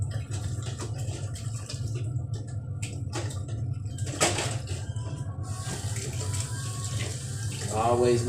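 Scalding hot tap water runs steadily into a sink while dishes are washed, a constant close rush with occasional clinks and light handling noises.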